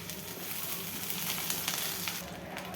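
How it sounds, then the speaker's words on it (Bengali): Dried fish sizzles and fries in hot mustard oil in a pan, giving a steady, close, crackling hiss with small popping bursts throughout. "এজন্য সরিষার তেল গরম করে নিয়েছি এবং শুটকিগুলোকে একটু এখন ভেজে নেব।"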